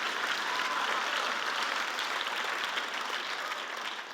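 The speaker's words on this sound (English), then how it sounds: "If you're going to clap, then clap." Church congregation applauding during a Sunday service, a steady wash of many hands clapping at full strength for several seconds, fading only slightly at the end, with no voices on top.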